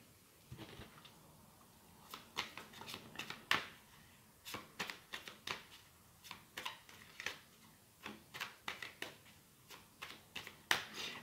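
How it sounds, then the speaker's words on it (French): Tarot cards handled and laid down on a table, a quiet run of soft crisp flicks and taps in uneven clusters, close and faint. "On va remettre une carte ici."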